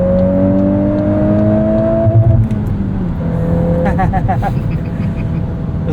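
Turbocharged 2023 Volkswagen Golf R 20th Anniversary Edition with a manual gearbox, its engine droning loud and steady up through the revs, then a quick rhythmic stutter as it bounces off the rev limiter, with brief voices over it.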